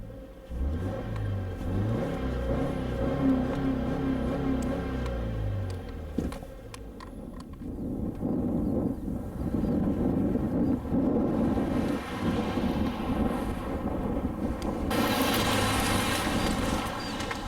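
A 2016/2017 Subaru Crosstrek's engine revs and pulls as the SUV drives off, a rising, falling drone that settles into a steady road rumble with wind noise, with no talking.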